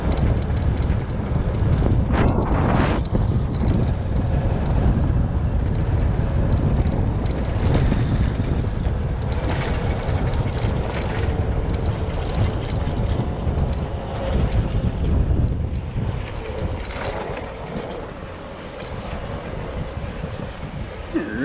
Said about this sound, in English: This is what an electric scooter would sound like.